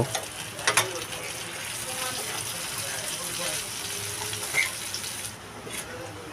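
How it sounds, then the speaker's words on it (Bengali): Potatoes fry in a pan over medium heat, a soft continuous sizzle close by, with a few clatters of turning early on and a brief knock later. "এইভাবে উল্টিয়ে পাল্টিয়ে ভেজে নেব।"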